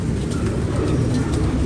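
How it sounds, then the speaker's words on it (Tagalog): Pigeon cooing close by, soft repeated coos over a steady low rumble of background noise, with no talk. "Lokong kalapati na to."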